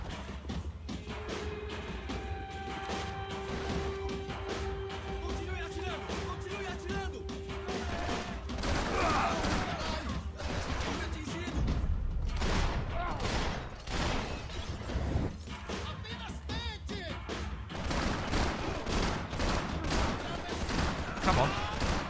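Repeated gunshots crack out in irregular volleys during a Max Payne 3 firefight, mixed with crashes and game effects. Someone talks over parts of the shooting.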